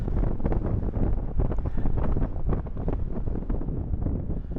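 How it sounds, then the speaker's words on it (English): Strong wind buffeting a microphone on a Shropshire Hills hilltop, a continuous loud low roar with gusty surges that never lets up, close and unbroken with no voices. "it's very windy"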